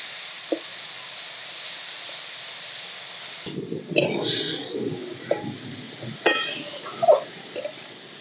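Papaya pieces fry in a pan for a Bengali papaya ghonto while being stirred, a soft steady hiss giving way to close scraping and clattering strokes that come in uneven bursts.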